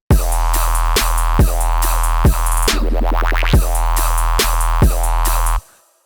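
A Serum 2 synth frog bass variation for a dance drop, a loud buzzy bouncing bass line pulsing in repeated bars over a deep sub and punchy drums, cutting off abruptly at the end.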